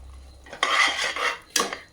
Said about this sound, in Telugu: ఇప్పుడు టొమాటోస్ అది కలిపి ఫ్రై అవుతూ ఉంటాయి.